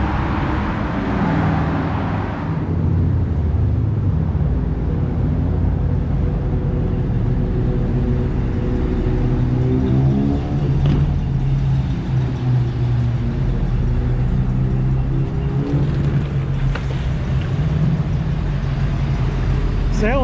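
Old cars, including classic Chevy and Buick models, cruising along Woodward, with steady rumbling engines close by and people talking over the mechanical drone throughout.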